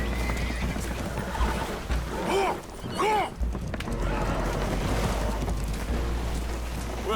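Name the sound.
spooked horses neighing in Red Dead Redemption 2 video game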